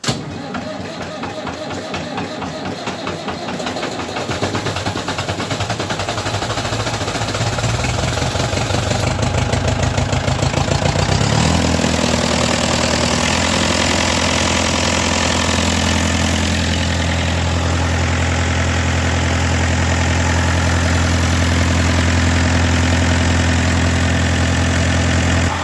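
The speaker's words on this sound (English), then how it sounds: "it's been about 4 months since this tractor has been started. So hopefully the battery hasn't gone too flat." An old tractor engine cranking and starting after sitting for four months, with uneven turning over that catches and settles into a loud, steady low idle close by.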